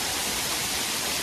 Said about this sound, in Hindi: भाई की झरना देखो गाइस।